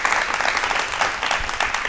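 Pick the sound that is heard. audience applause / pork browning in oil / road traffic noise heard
audience applause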